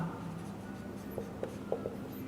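Pen or chalk writing out an answer during a maths lecture on cubes and cuboids: faint, scratchy strokes with a few short, sharper taps over a quiet room hum, and no talking.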